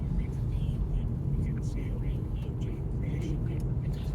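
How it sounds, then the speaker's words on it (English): A car rolls over a rough, potholed road with a continuous loud drumming rumble like a rumble strip, steady throughout, with faint higher rattles on top. "Now, it's like driving on a constant rumble strip."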